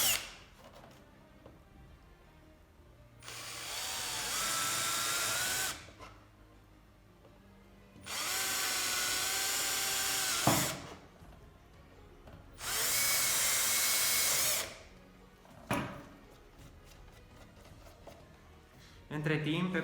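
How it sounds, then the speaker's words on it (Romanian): A power drill bores 5 mm holes in a DIY tower-goal build for a First Tech Challenge robotics team, whining loudly in three sustained bursts of a few seconds each, separated by quiet pauses with faint handling noises. "Acum o să dăm o gaură de 5 mm în fiecare punct cu ajutorul mașinii de găurit."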